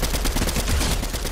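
Gunfire in the video game Fortnite, a loud, dense rattle of rapid shots running without pause through the short moment.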